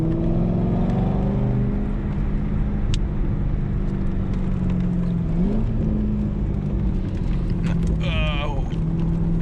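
A 2004 Corvette C5 with a six-speed manual cruises at steady, moderate pace on a winding mountain road, its engine droning loud and close, with a brief rise in pitch midway and a short squeal near the end.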